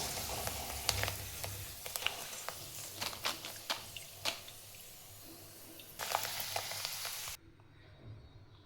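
Thin potato chips fry in oil in a kadhai, a steady close sizzle with scattered crackling pops and stirring, which stops abruptly near the end.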